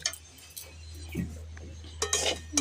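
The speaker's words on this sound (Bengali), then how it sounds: "আগে থেকে যে সুজি ভেজে রেখেছিলাম সেগুলো দিয়ে ভালো করে নাড়াচাড়া করে নেব" A spoon stirs roasted semolina in a pan with light clinking and scraping, a few soft metallic taps over a low kitchen hum. They are close and quiet, with no speech.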